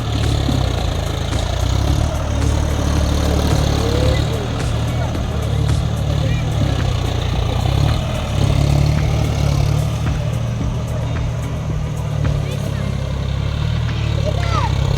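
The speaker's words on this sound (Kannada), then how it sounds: "ಇವಾಗ ಏನು ಹೋಗ್ತಿದ್ದಾರೆ ಟ್ರ್ಯಾಕ್ಟರ್" A tractor engine runs steadily at close range, a continuous low rumble that holds loud and even throughout, with voices talking faintly over it.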